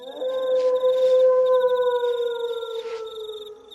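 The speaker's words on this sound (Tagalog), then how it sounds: "Kanino ba yung asong umaalulong?" A dog howls in one long, steady, mournful tone that slowly falls in pitch, loud and close, with a faint high electronic whine behind it.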